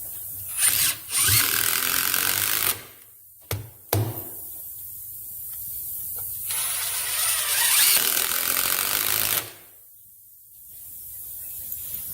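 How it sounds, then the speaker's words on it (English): A power drill drives 6-inch ring shank pole barn spikes into wood while a horseshoeing stock is assembled, with loud close whirring bursts that strain and stop, interrupted by sharp knocks. "They're 6-inch ring shank pole barn spikes"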